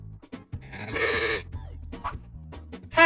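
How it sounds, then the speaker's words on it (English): A sheep bleats nearby in one strong, wavering cry, followed by softer murmurs and the start of another bleat at the very end, with low background noise throughout. "Sheep."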